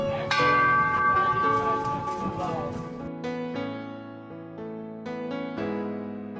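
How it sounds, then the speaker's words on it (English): A bell of world peace and love rings out across a desert, its struck tones sustaining into long, overlapping harmonic overtones that swell and decay, with several further strikes following over a steady musical backdrop. "The sound of the bell of world peace and love reverberated throughout the desert."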